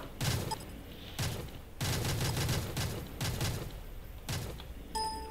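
Bursts of rapid gunfire from modded weapons in the Minecraft video game, several loud volleys in quick succession with short gaps, ending in a metallic ding.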